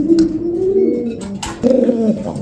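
A pair of tiger racer pigeons coo close by in soft, repeated throaty phrases, with one brief bright flutter or chirp partway through; no one speaks.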